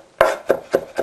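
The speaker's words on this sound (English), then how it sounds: "chop that up like that, very small." Four crisp knife chops on a board, close and evenly spaced, as garlic is cut very small for a stuffed marrow dish.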